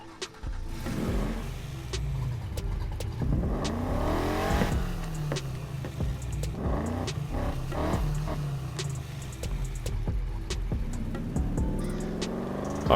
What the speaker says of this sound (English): We do have the 65 Mustang here. It sounds really good though.